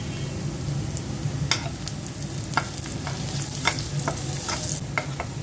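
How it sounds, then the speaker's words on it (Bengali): Onion and garlic frying in oil with panch phoron and black cumin for dal, a dense close sizzle punctuated by repeated spatula scrapes and taps against the pan. "পেঁয়াজ আর রসুন ভেজে নিচ্ছি ডালের মধ্যে দেওয়ার জন্য"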